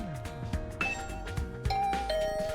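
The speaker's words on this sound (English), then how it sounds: "I rang the doorbell to Tsubasa's room" A doorbell in The Hundred Line video game rings with bright chime tones, several short ringing notes layered over soft game music, clear and close.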